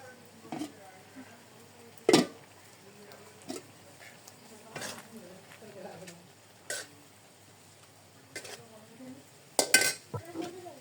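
A cooking pot of rice is set back down in a village kitchen, several sharp metallic clanks and knocks of pots and utensils scattered over a quiet background, with faint voices in places.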